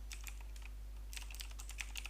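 Fingers type on a computer keyboard, entering a website address: light rapid keystrokes in irregular clusters over a steady low hum, quiet and close, with no talking.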